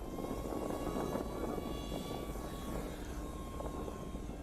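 A radio-controlled Mako model airplane flying overhead, its propeller motor a steady faint drone with a thin whine, continuous and fairly distant, with no talking.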